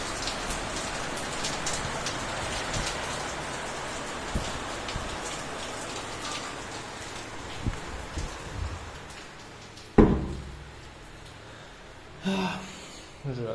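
Heavy rain pours steadily in the Philippines, a dense continuous hiss of drops on surfaces with a few sharper knocks and a sudden louder clatter near the end, no talk over it.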